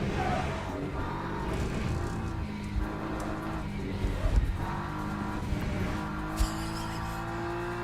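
A race car engine in the Le Mans Ultimate sim racing game drones steadily and loud throughout, heard as if from an onboard camera or in-car microphone, with a few brief sharp peaks near the end.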